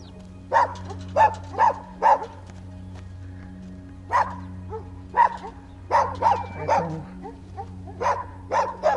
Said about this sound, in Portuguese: Está cheio de cães.